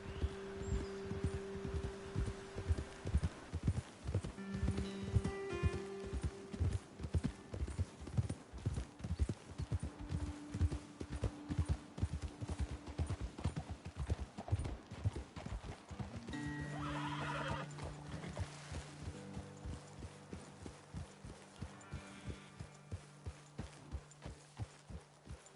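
Horses in Red Dead Redemption 2 clip-clop steadily at a walk, hooves thudding in a close, regular rhythm, with several loud neighs and whinnies rising over the footfalls, denser toward the end.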